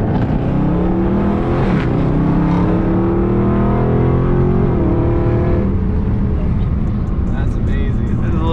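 A 2020 Dodge Charger 392 Scat Pack Widebody accelerates hard from inside the cabin, its loud V8 roar climbing in pitch with firm, abrupt transmission shifts, while people talk over the engine.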